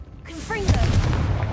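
Confringo fire spell in Hogwarts Legacy bursting in a short, loud booming explosion that rumbles briefly after the cast, with a voice heard at the start.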